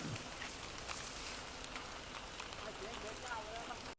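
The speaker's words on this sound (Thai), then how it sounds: "ตอนนี้ฝนตก" Rain falling steadily on surfaces outdoors, a dense, even patter that stays constant throughout.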